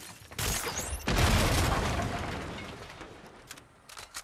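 Gunfire in the Fortnite video game: a sharp shot, then a loud booming blast that fades into a long, decaying rumble, followed by a few faint clicks and taps near the end.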